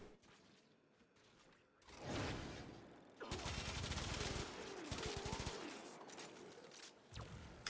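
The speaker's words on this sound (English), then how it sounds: "So I just use my full auto twin pistols while that thing pulses out the bullet attractor field" Full-auto twin pistols in a video game fire exploding shots in long, dense bursts of rapid popping, with brief pauses between volleys and a mechanical clatter, fairly faint overall.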